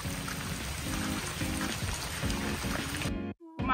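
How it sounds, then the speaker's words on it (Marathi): Rain pattering steadily on a surface near a dense forest, a continuous close hiss with patters, ending in a brief drop-out and a short tonal knock. "पाऊस आला पाऊस आला पाऊस आला पाऊस आला पाऊस"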